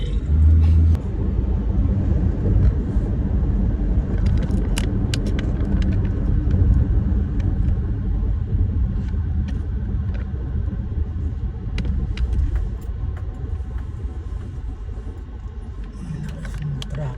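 Steady low road rumble of traffic heard from inside a car on a city drive, a continuous muffled engine and tyre drone filling the cabin with occasional faint clicks, no clear voices over it.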